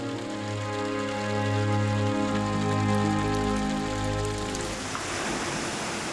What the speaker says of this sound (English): the sound of running water could be heard